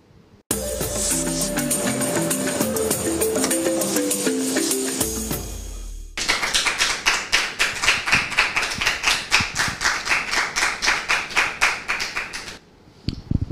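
Audience at the start of the TV show Point d'accord claps loudly in a steady, rhythmic beat after a musical intro, with the clapping dominating until it fades near the end.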